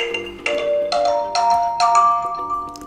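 A short ringtone on a TP-LINK Neffos C7s phone sounds four rising chime-like notes, each ringing out before the next, clear and close.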